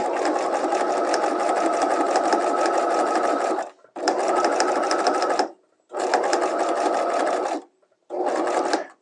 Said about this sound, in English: needle down, foot up, turn your pocket, and continue stitching.